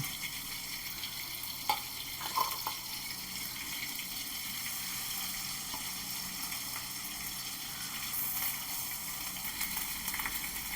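A small amount of oil heating in a pan before tempering, with a soft continuous sizzle at low level and a couple of faint utensil clicks, no voices.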